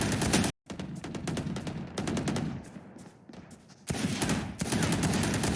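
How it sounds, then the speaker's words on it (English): Dense gunfire rattles through a tactical shooter match in rapid bursts and fusillades, loud and close, with a brief silent gap between volleys. "This guy sewer just shoots you in the back"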